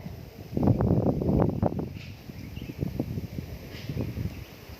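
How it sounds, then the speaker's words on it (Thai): Wind gusts across an exposed clifftop campsite at Pha Daeng in Ta Phraya National Park, Buriram, buffeting the microphone in a strong burst early on and then in weaker, uneven puffs, with no talking. "จุดที่เราอยู่ตรงนี้นะ จะเป็นผารับลมเต็มๆเลย"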